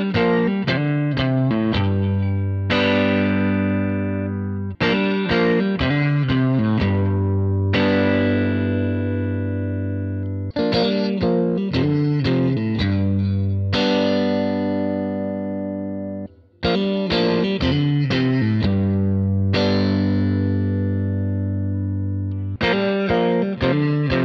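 A PRS SE or Core Silver Sky electric guitar runs through distortion and chorus, playing loud, sustained chords in repeated phrases with a brief pause near the middle, with no voices over it.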